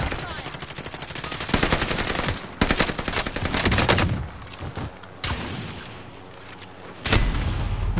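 Video-game gunfire rattles in loud, rapid automatic bursts with heavy booming shots, stopping and starting in several volleys over eight seconds.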